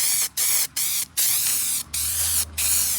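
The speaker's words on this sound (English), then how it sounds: "So just spraying this on it, it's only getting the surface really." Spray paint hisses onto white artificial turf in Arizona in short, close bursts, with brief pauses between the loud, steady sprays.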